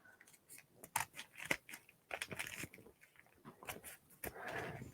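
Scissors snip through a paper bag while cutting a snowflake, giving a string of crisp, irregular cuts and crinkles up close, with soft rustling between the snips.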